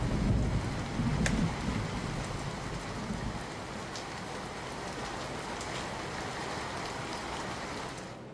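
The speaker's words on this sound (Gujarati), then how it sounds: "સુરતમાં અનેક વિસ્તારમાં ધોધમાર વરસાદ વરસ્યો" Steady, dense downpour of heavy rain in Surat, Gujarat, hissing continuously, with a slightly louder rumbling wash in the first few seconds and no voices.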